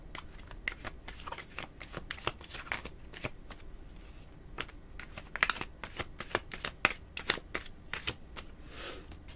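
A deck of tarot cards is shuffled by hand at close range, a quick run of crisp riffling snaps and soft slides repeating steadily without speech.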